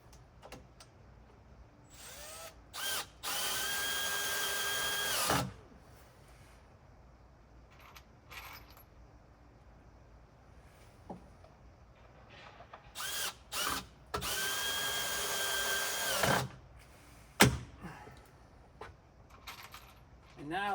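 A power drill drives screws into a roof support beam, two separate whining bursts of a few seconds each with short quieter gaps between them and a sharp knock near the end.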